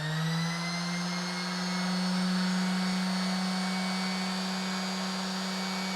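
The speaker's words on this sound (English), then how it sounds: "let's go for the sander." An electric sander drawing about 200 watts while powered by an EcoFlow portable electric generator, running as a steady, even motor hum with no change in pitch and no talking.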